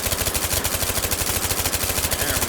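A virtual P226 pistol fires rapidly at paper targets in the H3VR shooting game, a dense, loud stream of evenly spaced sharp shots with no talking.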